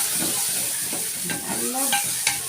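Garlic cloves fry in a pan with softened onion, a constant bright sizzle broken by a few sharp scrapes and clinks of a spoon being stirred through.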